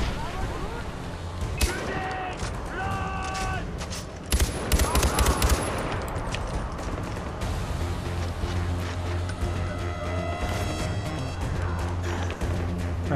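Gunfire in the video game Far Cry 4 rattles through a busy firefight, with dense bursts and fusillades continuing throughout amid crashes and game effects, loud and sustained.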